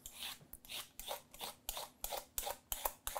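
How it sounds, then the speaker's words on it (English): Parsnips being peeled with a handheld vegetable peeler, a close series of about eight quick scraping strokes in a steady rhythm, each a short bright rasp, with no talking. "Now you just want to peel your parsnips."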